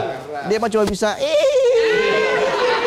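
A man imitates a horse with a wavering, whinny-like vocal bleat, loud and close, trailing into a sustained quavering tone.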